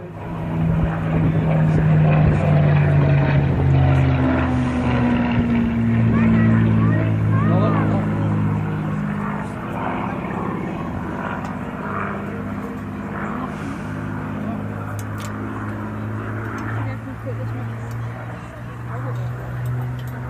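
A Spitfire propeller plane makes a low flyby at a World War II reenactment, its droning engine loud and steady before easing off, with someone talking over it throughout.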